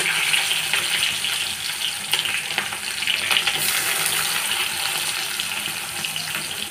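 Chopped onions hit a pan of hot oil already holding cardamom, cloves, cinnamon, cumin and bay leaf, giving a steady, even sizzle close by with faint clinks of stirring.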